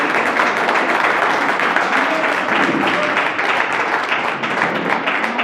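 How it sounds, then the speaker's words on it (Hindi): An audience at a community gathering applauds as women come up on stage, sustained dense clapping that holds steady and fairly loud throughout, with no talk over it. "तालियां।"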